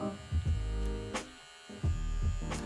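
Brio Beardscape beard trimmer with ceramic blades buzzes in short bursts, a low electric hum that starts and stops several times with faint clicks between, quiet and close.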